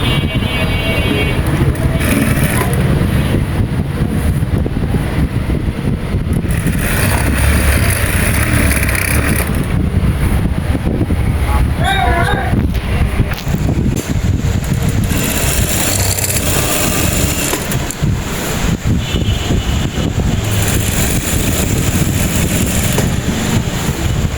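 A sewing machine stitching elastic onto a pyjama waistband gives a continuous, loud mechanical whirr with brief shifts in intensity, running throughout with no clear talking over it.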